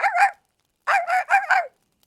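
A dog barks in the video game Date Everything: two quick yips, a short pause, then four rapid barks, close and clear over silence.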